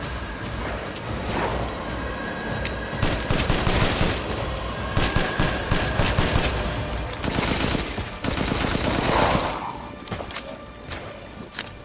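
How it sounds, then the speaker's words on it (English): Rapid rifle fire in a video game, with bursts and single shots crackling close and loud through most of the stretch, thuds and footsteps mixed between volleys. "A very nice rifle, I gotta say."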